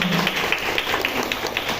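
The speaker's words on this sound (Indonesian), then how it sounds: "Nah, tepuk tangan untuk kita semua." Crowd of women clapping together at a district-level local protein-rich supplementary food competition for National Nutrition Day, a dense, fairly close patter of hands that holds steady throughout.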